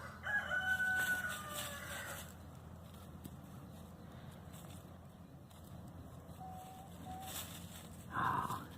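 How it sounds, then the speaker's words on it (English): Chickens moving into a new pen, with rooster crowing and clucking rising over a steady outdoor background, loudest at the start and again near the end. "Oh, love to watch chickens scratch."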